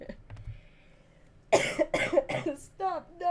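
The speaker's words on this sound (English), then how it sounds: "I can't cough like this." Someone coughs several times in quick succession, close and loud, after a quieter stretch with faint background sound; a voice follows at the end.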